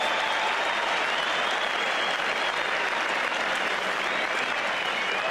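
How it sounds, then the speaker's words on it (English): A large crowd at a 1988 Brisbane Test cricket match between Australia and West Indies gives sustained, steady applause that carries evenly through the whole stretch, with no break. "And applause for Marsh and Strader's 50."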